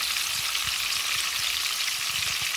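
Fish frying in a pan for a fish fry, a steady dense sizzle and crackle throughout with small popping bursts, close and continuous with no talking.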